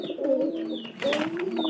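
A pigeon gives two drawn-out, rolling coos close by, the second swelling louder, with faint chirps from other birds behind.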